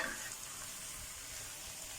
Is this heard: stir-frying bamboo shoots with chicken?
yes